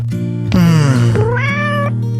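Cat meowing twice in quick succession, close and clear: a rising-falling drawn-out meow followed by a second higher one, over a steady background hum.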